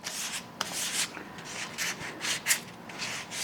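Dry sandpaper rubs back and forth over a burl wood bass guitar top in quick, rhythmic strokes, a close, hissing scratch with brief pauses between passes.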